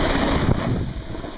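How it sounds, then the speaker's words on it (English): Strong wind buffets the microphone at a snowy ski area, a loud continuous roaring rumble with gusty swells and no speech. "It's windy! Really windy."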